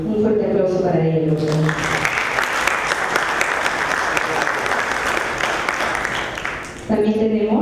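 Applause from the audience at a citizens' debate competition final in Peru, a dense sustained burst of clapping for about five seconds, with talk before and after.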